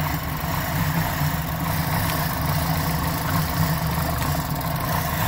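A Chevy Cobalt engine idles steadily in neutral with a continuous low rumble, nearby and unchanging, with no voices.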